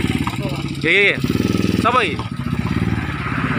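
A modified motorcycle exhaust with a non-stock muffler putters in a steady, close engine thrum, with two brief rev swells, while people talk over it throughout.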